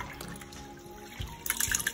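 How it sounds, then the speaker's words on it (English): Water being added to raw rice and swished through it for rinsing while making Nigerian jollof rice, a soft close sloshing and trickle that grows into a brief splashy burst near the end, no voices. "Add water to the rice and wash through the rice"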